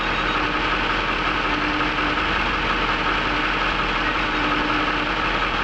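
Jaguar XK8 engine idling while warming up, a steady, loud and even engine drone that holds without change, with no voices.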